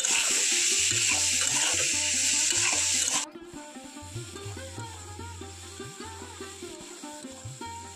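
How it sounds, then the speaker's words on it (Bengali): Grapes fry in oil in a pan over low heat: a loud bright sizzle for the first few seconds, then dropping to a softer hiss with repeated scraping stirs throughout. "এই তেলের মধ্যে খুব ভালো করে একটু ভেজে নিতে হবে।"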